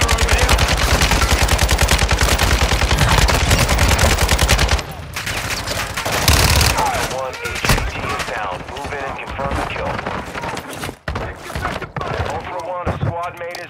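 Dense automatic gunfire in a Call of Duty Warzone DMZ match, rapid sustained bursts for several seconds giving way to scattered shots, impacts and game sounds, with voices heard over the action.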